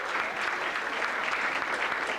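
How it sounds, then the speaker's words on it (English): At a celebration-of-life concert, a crowd gives a warm, sustained round of applause, thick overlapping claps with a slight swell and no talking over it. "A little bit of applause for Lou and Herb"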